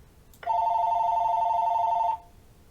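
A telephone rings once in a steady electronic trill lasting under two seconds, loud and close against a quiet background with no voices.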